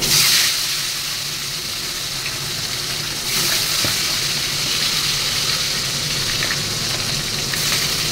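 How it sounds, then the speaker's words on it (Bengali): Tilapia pieces sizzle and fry steadily in very hot oil in a pan, a continuous close crackling hiss that stays loud for the whole stretch with no voices over it. "দেখো আমার তেল কিন্তু খুব তেতে গেছে। এবার আমি একটা একটা করে মাছ দেবো।"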